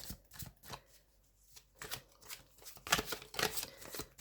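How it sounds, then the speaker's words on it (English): Tarot cards from a Thoth deck are shuffled in quiet, close bursts of papery riffling and soft taps, several short rounds separated by brief pauses. "So you would shuffle the cards first."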